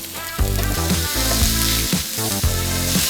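Pork from Polk's Folly Farms frying in about two teaspoons of olive oil in a pan, a steady close sizzle with a few bursts of clatter or stirring, no talk.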